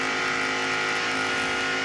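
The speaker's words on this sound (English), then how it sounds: "backed off a little bit to get in the corner. And right back on the gas" A NASCAR stock car racing at Daytona International Speedway in 1993 gives a loud, steady engine roar that eases slightly going into a corner and then builds again as the throttle reopens. No one speaks over it.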